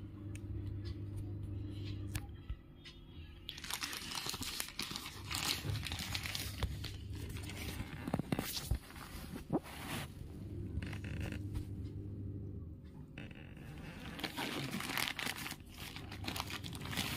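A delivered parcel holding five Syska LED bulbs is opened after being cut with scissors, giving continuous close crinkling, rustling and tearing of plastic packaging with no speech.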